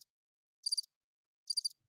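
A soundboard cricket effect plays two brief bursts of high, trilling chirps about a second apart. Both are thin and fairly faint over silence, with no voices.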